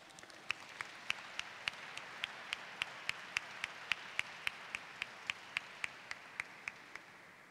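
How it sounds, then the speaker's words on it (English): Slow, regular claps at a Black History Month closing ceremony honoring Willie L. Brown Jr., spaced about every third of a second, moderately faint against a quiet room hum. "I'm so glad y'all applauded."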